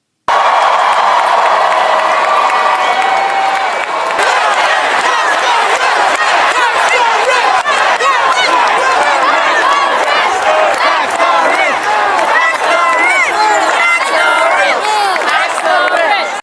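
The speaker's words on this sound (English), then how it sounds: "This is a rally with Mamdani and the New York governor with the crowd chanting, "Tax the rich."" A large crowd at a New York political rally with the governor chants "tax the rich" in loud, dense unison, rhythmic shouting and cheering filling the space continuously with no pause.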